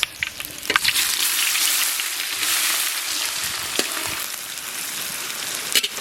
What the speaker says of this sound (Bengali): লবঙ্গ, গোলমরিচ, জিরে আমরা এটা ফোড়নে দেবো।